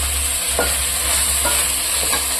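Vegetables sautéing in a pan for vegetable pulao, a loud close steady sizzle with three short scraping stirs of a spoon spaced evenly, nobody talking.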